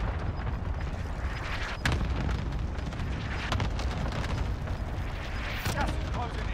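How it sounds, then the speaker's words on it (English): Cluster strike explosions in a military video game thud and crackle in a dense barrage, several sharp blasts over a rumbling low roar, moderately distant and fairly quiet, with voices talking over it. "Good copy. Cluster strike away."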